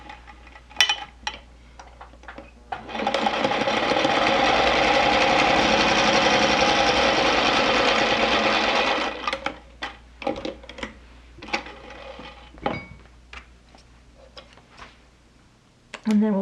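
A sewing machine top stitches along a strap seam of a jelly tote bag, running in one steady, close whir for about six seconds, framed by soft handling taps, clicks and a little talking before and after.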